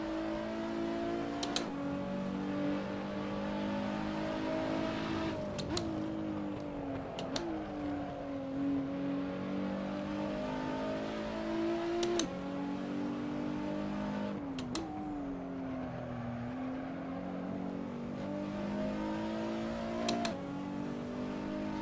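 Nissan GT-R R35 engine, US version, droning in the racing game Assetto Corsa, rising and falling through repeated gear changes with sharp shift blips, steady and loud throughout with no talk.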